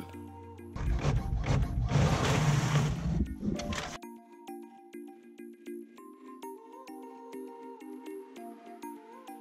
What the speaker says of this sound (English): You just put this paper on the back of it and send it through the printer.